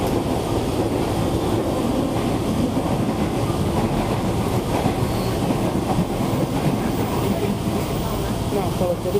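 Commuter KRL train running toward Bogor station, a steady loud rumble with a faint clickety-clack of wheels throughout, heard from inside the car.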